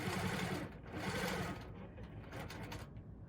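A longarm quilting sewing machine stitches steadily and close, a continuous rapid mechanical whir that runs throughout without talking.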